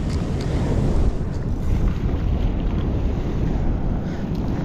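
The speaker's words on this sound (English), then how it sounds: "Oh, the waves are gonna break." Surf breaking on a California beach during perch fishing, a loud continuous low roar of waves heavily mixed with wind buffeting the microphone, with no voices.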